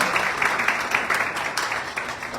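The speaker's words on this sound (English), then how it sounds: "Let's give them a big applause." A seminar audience applauds with steady, dense clapping that carries on throughout at moderate loudness, heard alone without talk.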